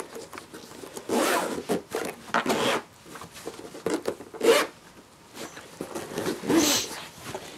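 The zippered carrying case of a Razer BlackWidow TE Chroma mechanical keyboard is unzipped in several loud, close, raspy pulls of varying length, with handling rustles between them.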